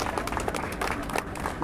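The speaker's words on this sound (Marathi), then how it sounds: "याच्यासाठी आपण जोरदार टाळ्या वाजवूया" Audience clapping at a Bhim Jayanti celebration, a dense steady patter of many hands from a crowd, moderately loud and continuous throughout.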